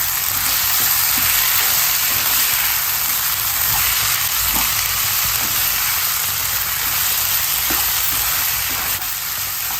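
Egg cheese masala fries in a pan while being mixed, a steady loud sizzle and hiss running throughout with faint scraping stir taps and no voices.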